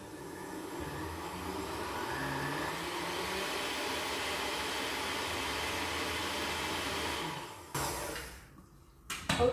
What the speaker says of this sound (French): Allez hop, on va mixer ça.